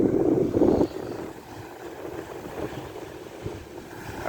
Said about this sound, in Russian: Опять море волнуется.